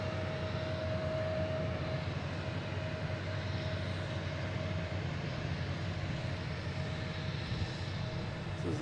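A Delta Airbus A321neo airliner arrives at Boston Logan from Salt Lake City, a steady, rumbling engine roar with a thin whine running through it, heard at moderate distance without pause.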